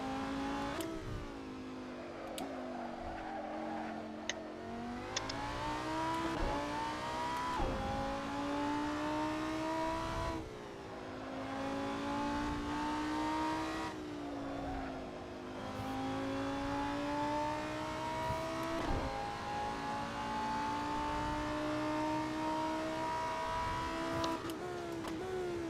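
A GT300 race car engine in Assetto Corsa revs hard through the gears, rising whines repeatedly cutting and climbing again over a long stretch, with occasional shifts and steady, moderately distant engine tone.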